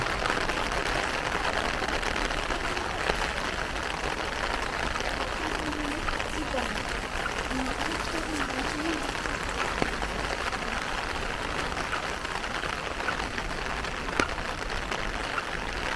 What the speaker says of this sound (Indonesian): kurang lebih kayak gini teman-teman suasana hujan di Jepang